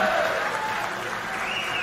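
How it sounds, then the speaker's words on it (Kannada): An audience at the Mysuru Dasara 2025 inauguration applauds Banu Mushtaq, a dense, sustained wash of clapping from a large crowd, steady and fairly loud throughout the short stretch. "ಬಾನು ಮುಷ್ತಾಕ್ರವರಿಗೆ ಮತ್ತೊಮ್ಮೆ ಜೋರು ಚಪ್ಪಾಳೆಯ ಧನ್ಯವಾದಗಳನ್ನ ಅರ್ಪಿಸೋಣ"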